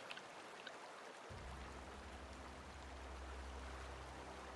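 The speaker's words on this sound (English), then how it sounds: "You hear the water flowing" Steady running water from a stream in The Outer Worlds game, a soft continuous rush that swells in fuller and louder after the first second and holds evenly, with no voices.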